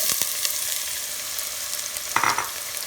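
Chopped onions fry with cumin seeds in a pan over a high flame, giving a steady, bright sizzle with a few sharp stirring scrapes and a louder burst near the end.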